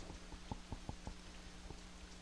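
Rain falling in RollerCoaster Tycoon: a very quiet, soft hiss with scattered light pattering drops, alone and without talk.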